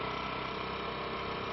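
A motorcycle engine runs steadily at an even, low hum, a continuous drone with no change in pace, heard alone with no talk.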